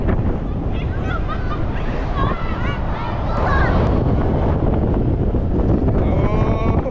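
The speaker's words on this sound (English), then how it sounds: "Quite windy as well." Steady, loud wind roar buffeting the microphone high up on the Toutatis roller coaster at Parc Asterix, with a broad rushing noise throughout and a few faint higher whistles and voices in the background.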